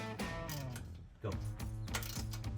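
A ratchet wrench with a 5/16 socket tightens exhaust flange bolts on a 1999-2004 Mustang GT cat-back exhaust, giving close, rapid clicking in quick bursts with a short pause partway through.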